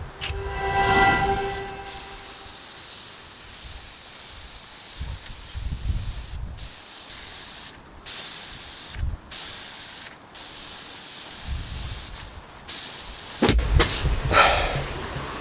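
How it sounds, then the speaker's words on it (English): Close spray gun hissing as base color goes onto a car panel of an old Mercedes-Benz W124 or W201, in several long steady bursts broken by short pauses. "Now I'm gonna quickly spray some base color after this clear coat."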